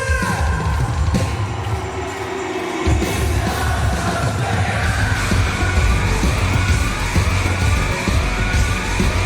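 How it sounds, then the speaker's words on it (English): A crowd cheering wildly at a concert, a loud, dense roar of yells and screams that swells and holds across the whole stretch, blended with ringing, siren-like high tones. "You can hear the crowd losing their minds."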